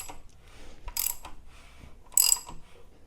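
An SRT4 engine with Crower cams turned over by hand: quiet mechanical ratcheting clicks and a few brief metallic rasps as the cams rotate, close and intermittent, without talking.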